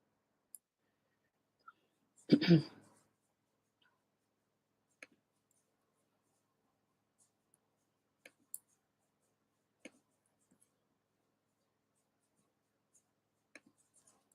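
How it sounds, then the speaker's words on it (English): Computer mouse clicks, a few sharp, faint ticks scattered irregularly through an otherwise quiet stretch, with one louder, longer rustling burst early on. "You're clicking the link?"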